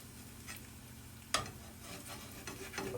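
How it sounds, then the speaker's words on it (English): A metal spatula scrapes and stirs crispy Kobe Jack cheese frying on a hot griddle. Steady sizzling runs throughout, broken by a sharp scrape and a few clinks, close by with no talking. "I'm going to scrape that up in just a second here."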